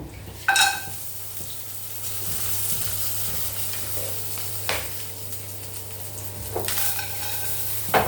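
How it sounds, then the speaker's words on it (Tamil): Cinnamon, cloves, fennel seeds and garlic sizzling in hot coconut oil, a constant crackling fry punctuated by a few sharp scraping stirs of a spoon in the pan, close and fairly loud with no voices. "கொஞ்சம் பட்டை, கிராம்பு, சோம்பு, பூண்டு போட்டுப்போம்"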